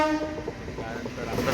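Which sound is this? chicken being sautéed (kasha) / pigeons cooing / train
train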